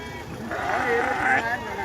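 Sheep bleat over a busy live goat market crowd, with people talking throughout.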